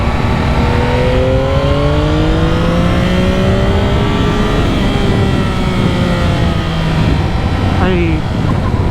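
A 2025 Yamaha MT-09 SP motorcycle engine revs and pulls through the gears on a test ride, loud and close, with its pitch climbing repeatedly under heavy wind rush.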